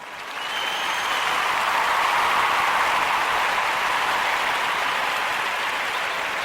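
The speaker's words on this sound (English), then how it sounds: "Ujamaa babies a round of applause." An audience breaks into sustained applause for Ujamaa. The clapping swells within the first second, then holds as a dense, even roar from many hands to the end, with no voices over it.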